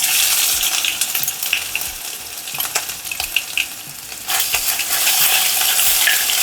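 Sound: ginger, garlic and green chili paste frying in mustard tempering

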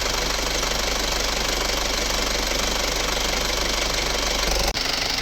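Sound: Isuzu Rodeo 2008 turbo engine idling

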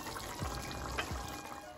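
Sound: hot water poured into a pot of curry

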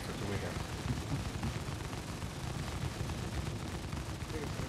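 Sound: gunfire from many players in the video game Star Citizen

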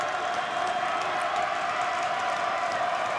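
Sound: basketball home crowd getting loud

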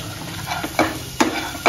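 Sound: stirring spiced potatoes with gram flour in a pan

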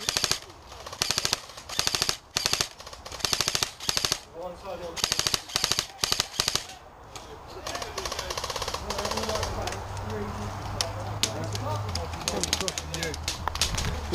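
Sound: airsoft guns firing

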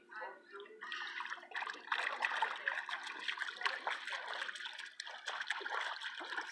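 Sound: water splashing in a pool

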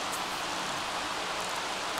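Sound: rain falling in The Sims 3 video game

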